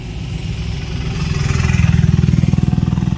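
A motorcycle engine running close by on a rainy day near Munnar, a low rumble that rises into a steady pulsing throb, with no talking.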